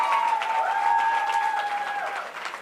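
A crowd applauds at a North Carolina U.S. Senate primary victory speech, a brief wash of clapping with a sustained tone running through it before fading slightly at the end.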